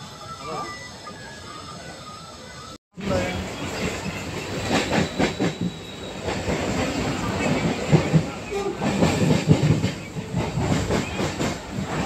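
A train at Tambaram railway station, a station under construction, rolling past with rhythmic clattering of wheels and carriages, a brief hiss and a sharp cut partway through, loud and close, with voices nearby.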